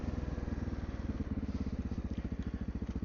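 A Honda XR650L motorcycle riding steadily on a road in the Ozarks near a dam, with a continuous, close, loud single-cylinder engine thump that pulses rapidly and evenly throughout.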